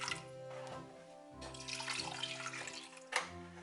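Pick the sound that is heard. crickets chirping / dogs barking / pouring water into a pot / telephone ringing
pouring water into a pot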